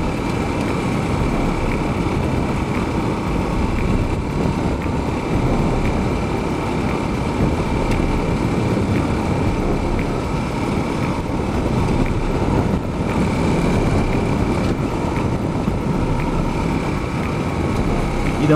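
A Suzuki DR650 motorcycle rides a gravel road at Stoneman Lake: a steady, loud engine drone blends with continuous tyre and wind rumble, unbroken throughout with no talking.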